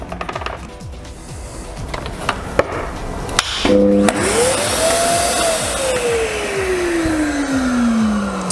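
A Karcher household vacuum cleaner whirs steadily, its motor pitch rising sharply after switch-on and then sliding gradually downward, with clicks and clatter at the start.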